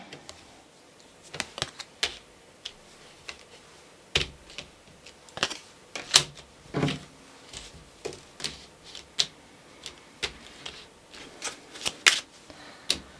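Tarot cards are shuffled and tapped straight on a surface, with repeated sharp riffling bursts and taps in an irregular rhythm, close and clear with no talking.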